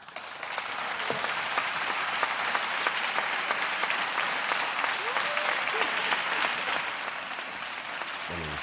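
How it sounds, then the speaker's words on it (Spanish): Sustained applause from members of the Castilla y León regional parliament in a plenary session, a steady dense roar of many hands clapping throughout, loud and continuous with no break. "son los aplausos de parte, lógicamente, del plenario"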